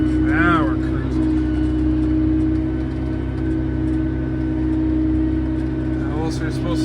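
Steady low drone of a Fendt 1167 Vario MT track tractor cruising on a farm, a constant rumbling engine with faint whine, heard from inside with a brief voice near the start.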